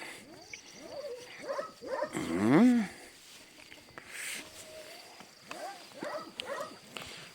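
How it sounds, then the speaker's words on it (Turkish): A large Kangal dog barks and whimpers nearby, with short yips and a louder howling bark in the middle, over faint background noise. "Çok büyük, çok yüksek bir köpek arkadaşlar gerçekten"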